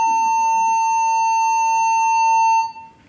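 Muster alarm aboard the cruise ship Ovation of the Seas: a loud, steady electronic tone sounds continuously for about two and a half seconds, then cuts off abruptly.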